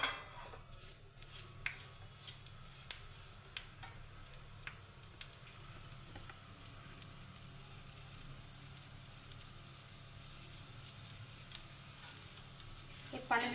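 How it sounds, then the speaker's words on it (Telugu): Cut ripe red chillies frying in a little oil for a chilli-tamarind chutney, a steady low sizzle running throughout with occasional faint clicks and ticks from the pan, no talking. "కొంచెం ఆయిల్ పోసుకొని ఈ పండు మిరపకాయలు ఉన్నాయి కదండి, ఇలా కట్ చేసి కొద్దిసేపు వేయించాలి."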